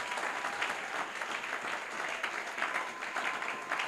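A congregation applauds at a church service, steady dense clapping from many hands filling the room without pause, with faint crowd murmur beneath.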